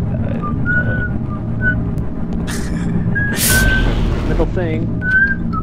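A person whistles short, bright melodic phrases of a Harry Potter tune over loud game sound and a steady low rumble during a Half-Life co-op session, with a brief hiss burst and some talking.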